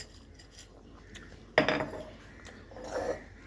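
Garam masala and lentils go into a cooking pot for khichuri, giving two separate clattering bursts of grains and metal clinks, the first sharp and louder, against a quiet background.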